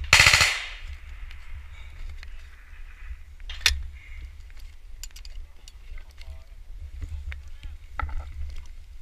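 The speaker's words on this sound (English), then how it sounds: "Skudd kommer!" A weapon fires on a Norwegian army firing range: one loud, close blast opens the sound, then fainter sharp reports and clicks scatter through the rest, with people talking faintly around them.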